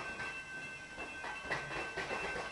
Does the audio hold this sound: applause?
no